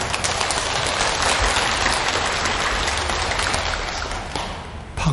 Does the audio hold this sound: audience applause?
yes